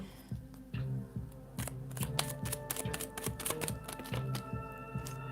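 Rapid rhythmic riffling and soft slapping of tarot cards being shuffled, close up, with a steady low hum underneath and no talking.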